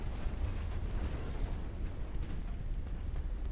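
A warship's flash fire explosion rumbles in Ultimate Admiral: Dreadnoughts at the Battle of Gotland, a low, steady, muffled roar of burning and blasts, distant and fairly quiet throughout.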